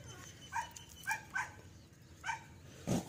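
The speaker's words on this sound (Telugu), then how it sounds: "కుక్కలు స్టార్ట్ అయినాయండి అరవడం" Dogs barking in a home garden: five short barks spaced out at uneven intervals, fairly quiet and somewhat distant.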